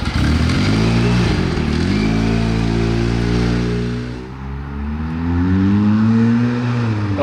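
A turbocharged Kawasaki Z1 motorcycle engine runs loudly and close, its pitch rising and falling through revs with a brief dip before climbing again.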